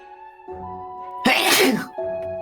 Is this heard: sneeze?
yes